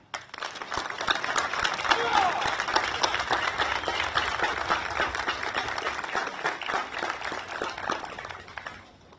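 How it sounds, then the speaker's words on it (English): Audience applause at a Veterans Day ceremony in Attleboro, a long steady round of crowd clapping that swells early and gradually fades out near the end, with voices faintly mixed in. "let's give one last round of applause to our Girl Scouts"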